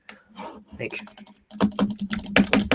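Typing on a computer keyboard, close and moderately loud, a quick irregular patter of key clicks that starts after a short pause and runs in dense bursts.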